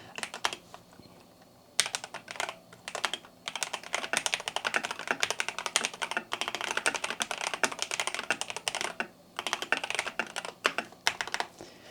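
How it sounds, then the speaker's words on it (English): Fingers type on a DrunkDeer A75 magnetic-switch keyboard, giving rapid, close clicking bursts in fast irregular runs with brief pauses, picked up by a chest-level mic. "Let's just give it one more test of me typing above."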